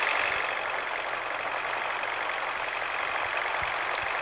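A truck engine in the video game Truck Simulator Offroad labours under load with a steady, strained drone. It runs loud and continuous throughout, with no voices over it.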